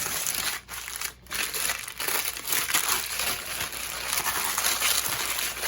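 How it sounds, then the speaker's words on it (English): Parchment paper crackles and crinkles loudly and up close as it is folded around a slab of puff pastry dough. The rustling is steady and continuous, with only a couple of brief dips. "I'm gonna rewrap this in my parchment paper."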